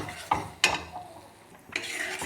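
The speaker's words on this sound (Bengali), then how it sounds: "ভালো করে নাড়বো।" A utensil stirs coconut paste into a spice masala in a pan over low heat, with three distinct scraping strokes against the pan over a light sizzle.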